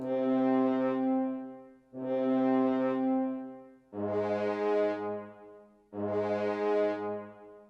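Orchestral horns from a Symphony Orchestra software instrument play a slow melody of root notes doubled an octave higher, four long sustained chords one after another, loud and alone with no talking.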